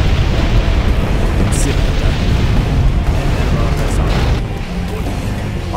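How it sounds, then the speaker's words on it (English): Incendiary attack explosions in C&C Generals Contra, a dense, loud, continuous roar of overlapping blasts and crashing fire that holds steady and eases slightly near the end, with faint voice-like bits mixed in. "BMA incendiary attack."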